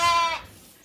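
A single close, loud bleat from a sheep on a farm, brief and alone.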